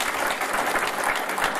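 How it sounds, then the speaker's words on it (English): Audience applause closing an evening 2012 candidate forum in Grosse Ile, steady dense clapping from a crowd filling the whole short moment without a break. "So applause to you."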